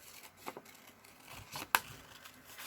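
Scissors cut a craft shape out of paper in a few soft, irregular snips, with one sharper, louder cut near the end in a quiet room, with no talking.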